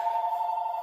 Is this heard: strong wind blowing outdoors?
no